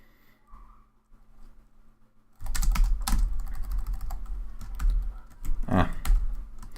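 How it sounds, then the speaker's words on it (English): Mechanical computer keyboard being typed on close to a microphone, a rapid, loud run of clacking keystrokes that starts abruptly after a couple of seconds of near silence and continues steadily. "I recently switched to a mechanical keyboard, which is, I think, too loud for streaming because my mic is really close to my keyboard."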